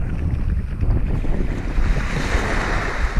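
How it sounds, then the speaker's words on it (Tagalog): Sea waves washing onto a white sand beach at a private resort in Guimaras, a steady loud roar of surf mixed with heavy wind buffeting the microphone, no voices. "Kasi ito yung dagat"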